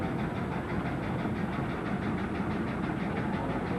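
A steady, rumbling 1923 Case steam traction engine runs continuously at a heritage weekend, with an even mechanical chug, loud and close, with no voices.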